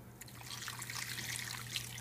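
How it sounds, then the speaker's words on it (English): Water trickles and splashes steadily as it is poured into a pot for bone broth, a faint, continuous liquid stream close to the microphone. "Get the water inside there."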